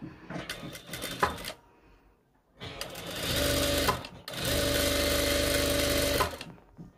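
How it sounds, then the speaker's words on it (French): A sewing machine runs a second seam on a one-piece prayer abaya in two long, loud bursts of steady, rapid stitching, preceded by a shorter start-stop run with quieter pauses between. "Je fais une deuxième couture."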